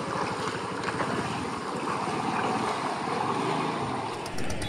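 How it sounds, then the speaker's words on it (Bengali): A bhutbhuti motorboat crossing flood water at Ghatal chugs with a rhythmic engine putter under constant wind and water wash, heard from nearby throughout with no talking. "চেনা ভুটভুটিতে যাতায়াত পারাপার আপনাদেরকে দেখিয়ে দিচ্ছি"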